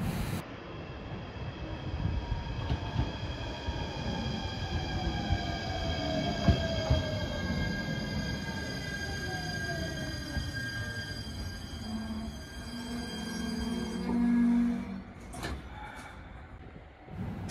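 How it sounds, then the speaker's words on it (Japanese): A departing freight train rumbles steadily nearby at Kan'onji Station on the JR Shikoku Yosan Line, with metallic wheel squeals and rail noise, a few sharp clanks near the end, no voices. "貨物列車の出発です"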